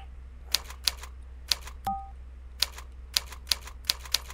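Someone touch-types on a keyboard during typing practice, with sharp, close keystrokes at an uneven pace, roughly a dozen taps over a low hum, with one brief electronic beep midway.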